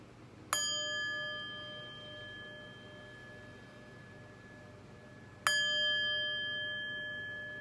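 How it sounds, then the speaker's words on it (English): A metal chime is struck twice about five seconds apart, each strike ringing out clear and bright, then slowly decaying, with the resonant tone lingering alone over faint room noise. "But first, let's chime."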